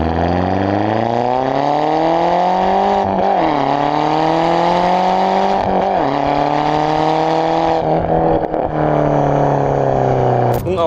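A Seat Leon Top Sport with a 210 hp 1.8T 20V engine and open exhaust revs loud and close, its tone climbing steadily through the gears with brief dips at each shift.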